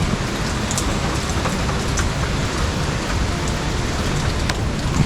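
Steady, heavy storm rain pours down in a dense, continuous roar, with no voices present throughout.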